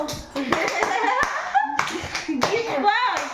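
Children clap together in quick, uneven bursts to cheer a round winner in a family game, with kids' voices and laughter chattering over the applause throughout.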